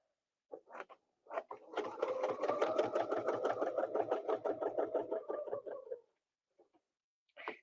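A sewing machine runs a fast, even stitch for about four seconds while quilting small circles with a ruler, loud and close, with short start and stop bursts at either end.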